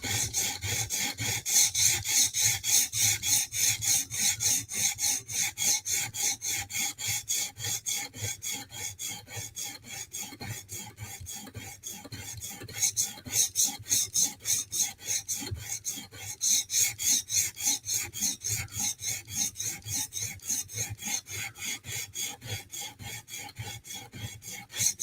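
A knife blade is drawn across a whetstone in a long run of fast, even rasping strokes, close and loud, with a brief pause midway and no voices.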